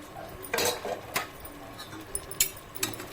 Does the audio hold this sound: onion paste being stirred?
yes